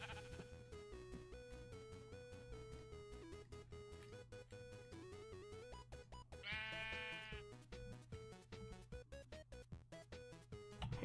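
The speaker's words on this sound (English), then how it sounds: "Come here, sheep!" A sheep in the video game Minecraft gives a single wavering bleat partway through, faint against a soft tonal music track that plays continuously.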